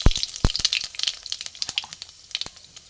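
Black cumin (nigella) seeds dropped into hot oil as a tempering for a katla fish curry, giving a bright crackling sizzle with scattered sharp pops and spits throughout, close and fairly loud.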